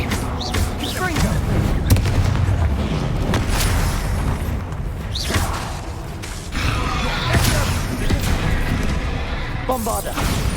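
Confringo fire spells bursting in Hogwarts Legacy combat: repeated booming blasts at irregular intervals over a dense, continuous din of battle effects, with a voice speaking in places.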